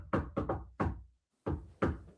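A voice imitates someone knocking on a door with six punchy, close beats: three quick ones, a fourth after a short gap, then a pause and two more.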